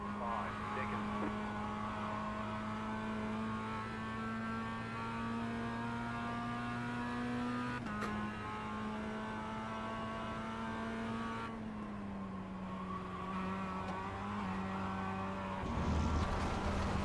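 A race car engine in the sim racing game iRacing holds a steady high drone throughout with a slight pitch dip around the midpoint, loud and continuous, ending with a brief rougher burst.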